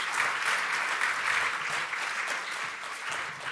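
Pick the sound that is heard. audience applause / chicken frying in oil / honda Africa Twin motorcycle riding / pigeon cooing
audience applause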